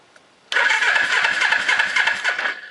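An old Suzuki Clipper motorcycle engine with dual carburetors fires up abruptly after a quiet moment, running close and loud with a rough, buzzy, uneven idle for about two seconds before cutting off.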